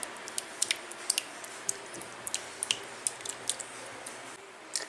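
Kirkland salsa pours into a dish with soft, wet squishes and small glops, faint and close, with a few light clinks against the container.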